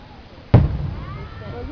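One firework bursts in a single sharp boom at a 2012 fireworks display in Murray, Kentucky, then rumbles and fades, with crowd noise behind it.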